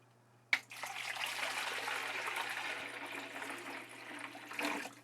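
Water poured into the reservoir of a NewAir NIM030SS00 ice maker, a steady splashing stream that starts abruptly after a short quiet moment and runs continuously at close range over a low hum, with no talking.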